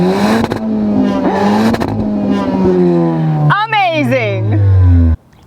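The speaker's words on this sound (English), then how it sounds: "what does a dual exhaust system sound like from a vehicle influenced by its performance sibling, the Kia Stinger?" A 2020 Kia Forte5 GT Limited hatchback's dual exhaust revs loudly up and down, then a sharp rising engine sweep before cutting off abruptly.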